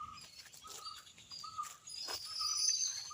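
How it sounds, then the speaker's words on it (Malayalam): Birds call in a forest, with short, faint chirps and whistles repeating on and off over a quiet, steady background. "കിളികളാണ് കേട്ടോ, കിളികളാണ്."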